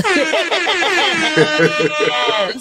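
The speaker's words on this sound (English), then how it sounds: "That absolutely deserves an air horn." A loud, blaring air horn blasts in a quick series of stuttering honks, over and over, in short bursts.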